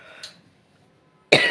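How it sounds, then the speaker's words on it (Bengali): A single sharp cough bursts out near and loud at the end, following a brief faint throaty sound earlier and a stretch of near silence, from a man at home running a fever. "বাবা কি কাশি হচ্ছে।"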